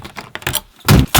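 A car door shuts with a heavy, solid thunk, followed by a second quick knock, close by, preceded by light rustling.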